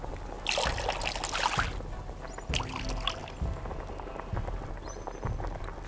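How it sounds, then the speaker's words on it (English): Water pouring and trickling as a teapot is dipped into a water bucket to fill it in the Lost Recipes VR cooking game, a steady splashing run of liquid lasting several seconds with soft thumps underneath. "Dip the teapot in the water bucket to fill it."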